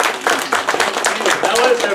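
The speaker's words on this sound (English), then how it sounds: "Let's give him a round of applause." Audience applause greets a science presenter being introduced at a library event, a dense, steady wash of clapping across the whole stretch with voices mixed in.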